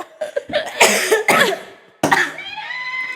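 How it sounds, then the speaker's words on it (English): Several harsh coughs burst out close and loud, clustered in two rough groups with a short silent gap between, followed by a trailing vocal sound. "I got a cough for that"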